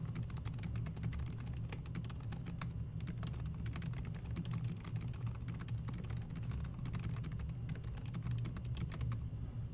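Fast, continuous typing on a computer keyboard produces a dense clatter of keystrokes that runs nonstop over a low hum, with no talking.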